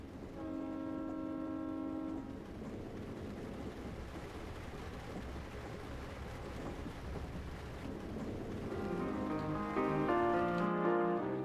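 Rumbling train-in-motion effect within a chamber opera staging, a steady broadband rush running throughout, with sustained tonal chords over it at the start and again rising near the end, loud and even with no speech.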